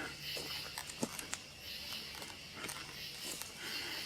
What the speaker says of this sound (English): the rain is dripping off the trees